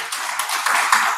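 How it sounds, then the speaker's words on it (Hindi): An audience at a Lions Club gathering in Delhi gives a brief burst of applause, a steady patter of many hands clapping at moderate loudness for about a second. "जोरदार तालियां बजा दें"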